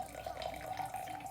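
Warm water pours steadily into a cup for a brief moment, a continuous close trickle with no talking.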